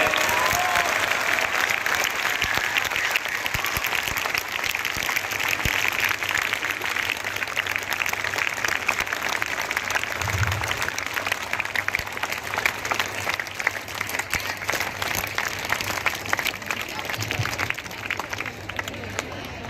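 A school audience of children and adults at a Children's Day event applauds loudly, a dense, sustained wash of clapping and crowd noise that runs unbroken for about twenty seconds.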